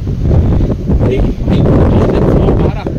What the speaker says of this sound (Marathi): जो वारा आहे ना क्लास आहे.